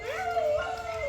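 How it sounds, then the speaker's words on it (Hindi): A dog howls in a single drawn-out, wavering cry, somewhat distant over faint background noise, in Cambodia. "एक कुत्ता रो रहा है"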